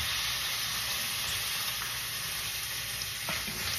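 Aromatics sautéing in a hot pan before pork belly goes in, a dense close sizzle and frying hiss held steady throughout, with a few faint stirring clicks.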